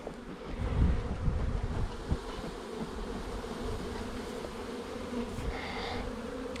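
Honeybees being driven out of a nucleus box with light smoke give off a dense, steady buzzing swarm hum, close and continuous, with faint wind noise and no talk.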